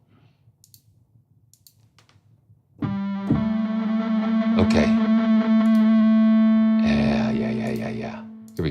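Celtic Era 2 synthesizer preset Angry Airwaves, a distorted, effects-laden tone that holds one loud, harmonic-rich note for about four seconds, then turns noisier and grittier near the end, after a brief spoken word and quiet clicks.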